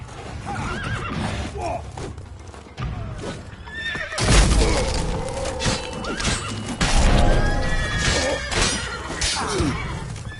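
Horses in The Witcher 3 neigh and whinny amid clip-clopping hooves and crashing, breaking sounds, with loud bursts of activity and occasional voices in a busy game scene.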